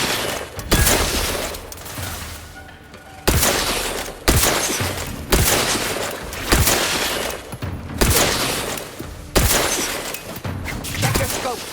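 In The Outer Worlds 2, loud, booming gunshots ring out about every second, each shot trailing off in a crackling decay before the next, with faint game voices beneath.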